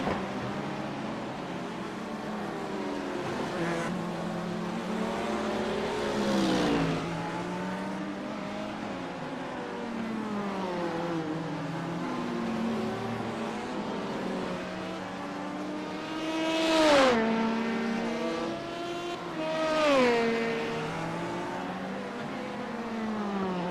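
Race cars, a BMW among them, scream around the Long Beach street circuit in a sports car championship round, engines rising and falling through gear changes, with loud passes near 17 and 20 seconds.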